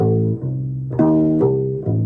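A deep plucked bass plays a short diminished arpeggio of single notes, each ringing out before the next, stepping upward clearly.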